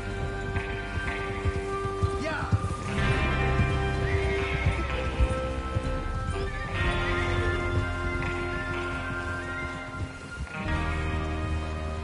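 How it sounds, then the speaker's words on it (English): Horses in a western video game whinny repeatedly over the clip-clop of hooves trotting, with several loud neighs standing out above a busy background of movement and faint voices. "Get your horses ready."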